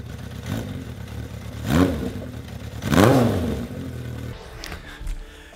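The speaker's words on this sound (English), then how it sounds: "here's what it sounds like with the new baffle installed." A Honda CB750K motorcycle exhaust fitted with a new baffle idles with a steady mid-pitched rumble, then revs up sharply twice, each rev rising and falling, before settling back to idle.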